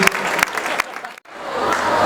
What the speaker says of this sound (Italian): vorrei l'applauso anche per Giulia, 28 anni, la mia assistente